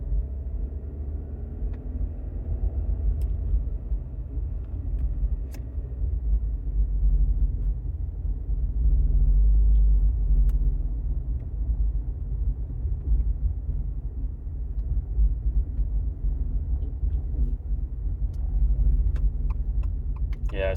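Cabin drone of a 2022 Subaru Outback Touring XT fitted with STI mufflers, held in second gear at low revs, a steady low rumble and boom filling the interior, moderately loud with small clicks and no talking.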